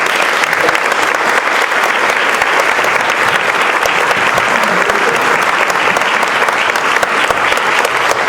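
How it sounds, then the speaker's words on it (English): A luncheon audience claps at a community awards event, dense, loud sustained applause that fills the room from start to finish. "I invite you to come around and applause"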